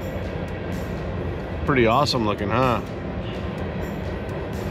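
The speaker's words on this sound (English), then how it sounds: "Oh, and a train's coming by." A train rumbles by in a snowy Deschutes River canyon in Central Oregon during winter camping, a loud, continuous low roar running throughout while someone talks briefly over it.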